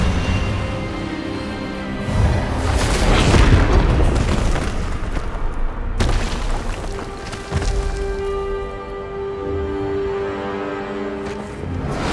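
A spell cast in Hogwarts Legacy erupts as a loud booming blast with a burst of crackling energy, then a sharp secondary hit and a lingering rumbling tail with tonal magical shimmer, no voices heard.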